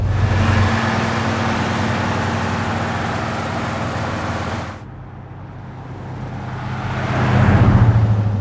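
A 1969 Pontiac GTO Judge with a Ram Air engine idles close by, giving a deep, lumpy rumble from its loping cam with lifter ticking on top. The engine drops briefly in level midway, then swells again near the end.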